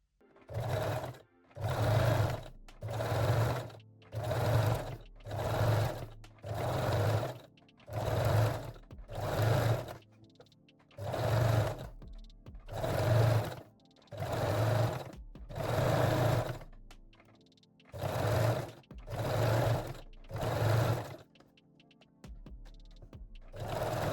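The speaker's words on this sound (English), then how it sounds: "sew it along the waistline. You can gently stretch the elastic while sewing" A sewing machine stitches stretched elastic along the waistline of lace-back Brazilian panties in about fourteen short, even bursts of whirring needle action separated by brief pauses, close and clear.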